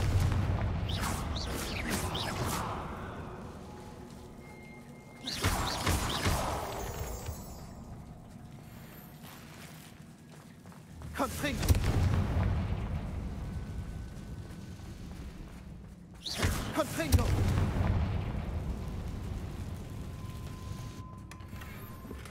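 In Hogwarts Legacy, Confringo blasting curses explode in four separate heavy booms, each a loud burst that rumbles and fades over several seconds before the next, with no talk between them.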